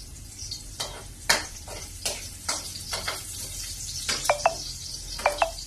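Vegetables being sautéed in a frying pan while cooking mung bean stew, with sizzling under repeated spatula scrapes and a few sharp metallic taps against the pan, close and fairly loud.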